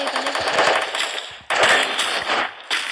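Rapid bursts of automatic gunfire from Counter-Strike crackle in quick succession, loud and close, with brief pauses between volleys.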